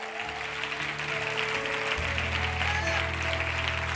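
A church congregation at a conference applauds, a dense wash of clapping from a crowd that goes on steadily, with sustained music tones and a low hum underneath.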